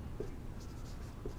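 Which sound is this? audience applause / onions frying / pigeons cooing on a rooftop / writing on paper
writing on paper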